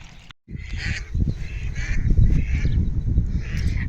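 Ducks and geese honk and quack continuously at close range, a dense overlapping flock chorus with steady low rumble underneath.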